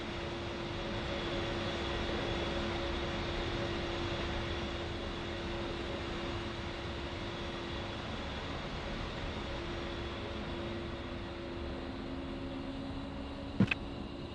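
A fixed-wing aircraft in a flight simulator game holds a steady, droning engine hum with a faint whine throughout its takeoff roll, and a single sharp click sounds near the end.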